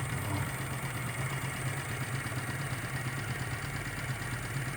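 An OKMO R01 Rider Ericsson Stirling engine with its own water pump runs on a gas burner, giving a continuous fast mechanical chatter and clatter over a steady low hum, close and even throughout.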